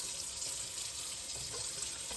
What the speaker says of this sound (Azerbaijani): Su tökülür.